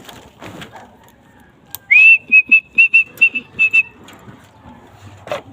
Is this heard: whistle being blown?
yes